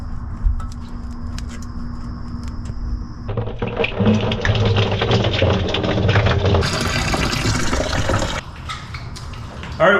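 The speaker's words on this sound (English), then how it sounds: "We're draining the old coolant out of the system." Old coolant pouring and splashing from a disconnected low-point hose on a 2017-2023 Chrysler Pacifica cooling system, a steady loud liquid rush that thins near the end, with scattered metallic clicks.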